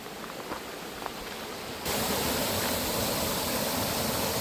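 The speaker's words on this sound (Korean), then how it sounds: "올라갈수록 계곡의 물소리가 점점 더 크게 들리는데요" Water rushes at Gusong waterfall and the valley stream below it, a steady broadband roar that suddenly grows louder partway through as the falls come closer, with no voices.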